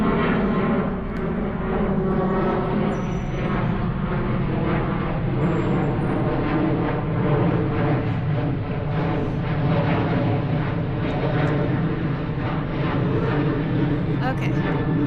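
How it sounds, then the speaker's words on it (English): A low, steady airplane roar from Eppley Airfield in Omaha, Nebraska, passes overhead above a cemetery, a constant broadband rumble with a person talking over it throughout. "Got an airplane coming overhead from Epley"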